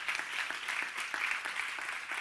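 At an awards ceremony for vocational training entrepreneurship prizes, an audience breaks into steady applause for the online events team, a dense, even clatter of many hands heard alone at moderate volume.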